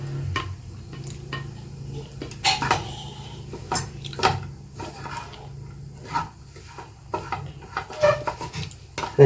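Chopped porotta with onion and egg stirred in a pan: close, irregular scraping and clinking of a metal spatula against the pan, with soft squishy turning sounds and a faint sizzle beneath.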